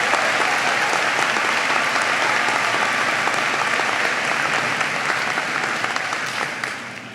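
Applause from a large audience at a university commencement ceremony, honoring social workers: thick, continuous clapping at full strength that starts tapering off near the end.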